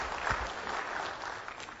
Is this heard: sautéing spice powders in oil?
no